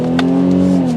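A 2021 Infiniti Q50 Red Sport 400 with a twin-turbo V6 accelerates, its exhaust giving a loud, steady, smooth engine drone that rises slightly in pitch over one second, with no talking.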